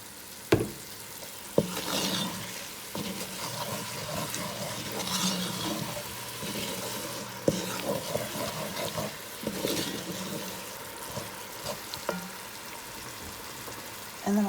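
Squash sizzles in a hot pan with a splash of coconut aminos, punctuated by scraping stirs and clinks of a utensil against the pan, moderately quiet and close, with no talking.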